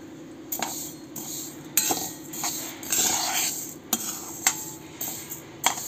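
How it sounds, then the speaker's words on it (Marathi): Urad and moong dal dry-roast in a pan over a medium flame, the lentils rustling as a metal spoon stirs and clinks against the pan in irregular strokes. "ह्या दोघं डाळी आपण छान तांबूस होईपर्यंत भाजून घेऊया."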